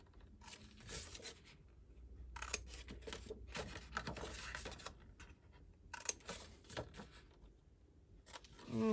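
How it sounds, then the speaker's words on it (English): Scissors cutting paper for a handmade mini album, a few short quiet bursts of snipping and paper rustle at close range on a tabletop, separated by near-silent pauses. "My scissors here."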